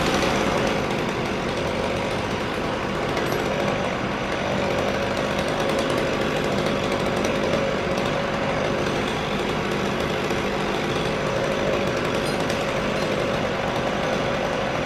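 Chainsaw roaring steadily while cutting down a tree, a continuous loud buzzing engine drone with slight rises and dips in pitch throughout, no voices.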